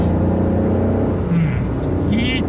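Honda N-ONE RS turbo with a 6-speed manual cruising in fourth gear on a mountain road, its engine a steady, loud droning rumble with a low whir holding even throughout.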